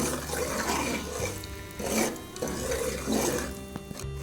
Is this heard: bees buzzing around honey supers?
no